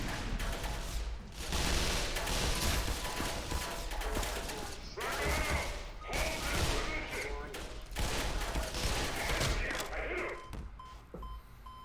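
Gunfire in the game Black Mesa, with bursts of repeated shots in several clusters, fairly loud and mixed with game noise and brief crashes.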